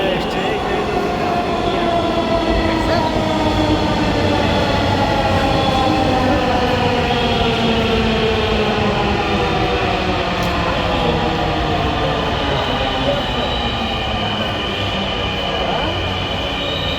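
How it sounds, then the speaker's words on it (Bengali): A metro train pulls into a station platform, its steady rumble and rising wheel squeal filling the space loudly and continuously, with faint voices in the background. "এই যে ট্রেন চলে এসছে।"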